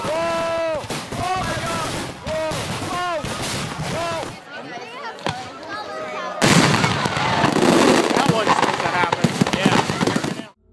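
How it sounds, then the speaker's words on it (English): Pyrotechnics from a collapsed platform fire sideways into a crowd at a public display, setting off a dense barrage of sharp bangs and crackling bursts that builds into a loud, continuous rattle, with crowd noise and voices mixed in. "fireworks firing horizontally into the crowd rather than skyward"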